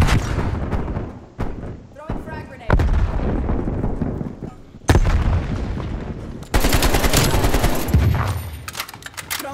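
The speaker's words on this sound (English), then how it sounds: "Throwing flashbang." Loud bursts of gunfire and explosive blasts in Black Ops Cold War multiplayer, with a flashbang grenade thrown amid repeated sharp broadband bangs and a bright ringing burst near the end.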